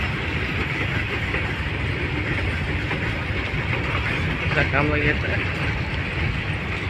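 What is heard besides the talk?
long goods train passing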